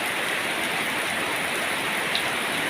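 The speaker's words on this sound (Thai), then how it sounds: "ตอนนี้ฝนตกแล้วนะครับ" Steady, dense rain pouring down, a continuous hiss of drops hitting surfaces, fairly close, with no talking.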